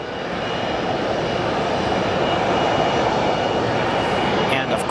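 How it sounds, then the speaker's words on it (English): An American Airlines A319 jet arrives at O'Hare Airport, its engines a broad, steady roar throughout, growing slightly louder and staying close, with someone talking over it. "Looking ahead, we've got our American Airlines A319 on its way in."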